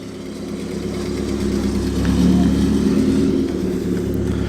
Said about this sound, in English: We've got a Spartan kit car coming in now.